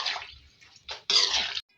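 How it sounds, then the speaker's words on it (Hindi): Water from a glass poured into a pan of cooking mixed winter vegetables, heard as two short splashy pours, the second louder and fuller, up close with no talking. "गिलास पानी डालेंगे, तो कंप्लीट जो है ये कुक होने देंगे"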